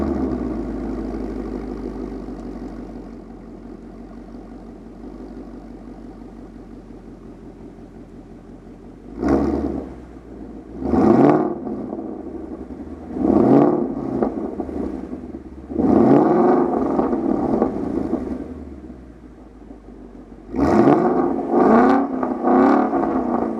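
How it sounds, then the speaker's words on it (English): A 2015-2017 Ford Mustang GT fitted with a Corsa Sport exhaust idles with a deep, steady rumble, then is blipped up through the revs in about six loud, separate bursts, each swelling and falling back to idle. No one speaks. "Here's a clip of it revving up a bit. I'm gonna be taking it just up through the RPMs"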